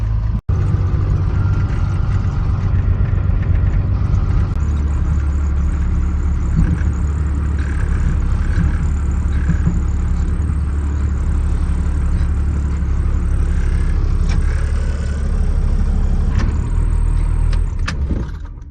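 A 1997 GMC Sierra pickup towing a trailer at about 45 mph, with a steady, loud engine drone and road rumble that holds without a break throughout and carries no voices.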